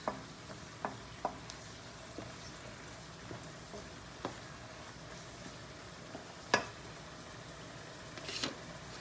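Eggplant and minced chicken adobo stir and fry in a pan, a faint steady sizzle broken by scattered light clinks and scrapes of the spatula, quiet and close with no voices.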